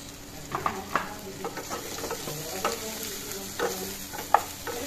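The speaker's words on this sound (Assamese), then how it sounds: "এইখিনি অলপ লৰাই দিলোঁ।" A spoon stirs ground turmeric, coriander, chili and salt through an egg curry in a hot pan, giving soft irregular scrapes and clinks over a faint sizzle with no voices.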